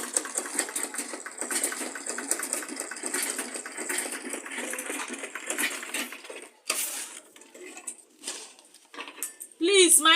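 A sewing machine runs in steady bursts of stitching across the top of a folded tote bag, fairly close, with clatter and a few pauses before a brief sharp sound at the end.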